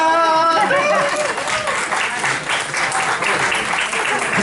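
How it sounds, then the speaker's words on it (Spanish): An audience at a talk on optical illusions claps loudly and steadily for several seconds, a dense wash of applause close to the listener, with a bit of voice at the very start. "Y luego me aplaudís, por favor."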